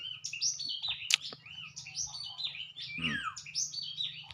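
Several birds chirp and whistle in busy, overlapping calls, fairly close and lively, with a sharp click or snap early on.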